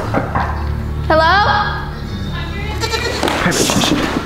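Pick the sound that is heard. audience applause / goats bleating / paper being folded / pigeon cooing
goats bleating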